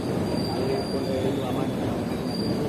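A train at New Tinsukia railway junction in Assam makes a loud, steady rumble, with a thin, high wheel squeal drifting in and out above it.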